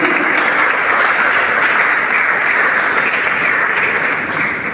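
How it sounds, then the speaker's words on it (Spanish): A church congregation at a worship service breaks into loud, sustained applause, a thick and even roar of many hands clapping together that fades slightly near the end. "Denle un aplauso a Cristo."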